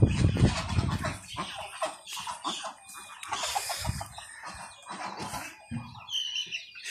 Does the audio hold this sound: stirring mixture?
no